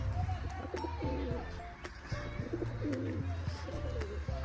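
Pigeons coo repeatedly close by in soft, throaty phrases, with faint background noise and distant voices.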